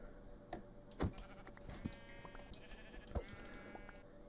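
Sheep bleat several times in short, scattered calls over a soft background hum, with a few clicks and blips typical of game sounds.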